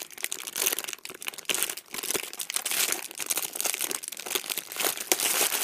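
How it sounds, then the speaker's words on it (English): Plastic packaging crinkles and crackles as a squishy toy is unwrapped, a close, busy stream of rustling and crumpling that grows louder toward the end. "let me just unwrap it"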